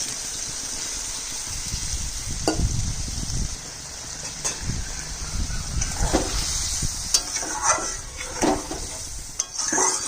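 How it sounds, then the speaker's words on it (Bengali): Water hits a frying soybean dish in a pan, giving a hissing sizzle with stirring scrapes and clinks of utensils against the pot, close and fairly quiet. "জল দিয়ে দিচ্ছি।"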